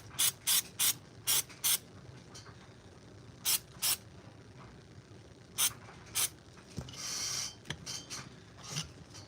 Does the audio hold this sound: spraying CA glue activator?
yes